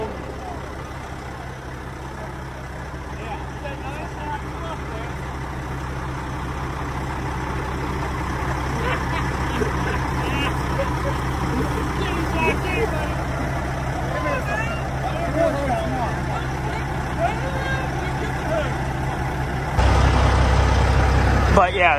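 A semi truck with a trailer idles steadily while its air system builds pressure for the trailer, a low continuous rumble that swells louder near the end, with voices talking over it.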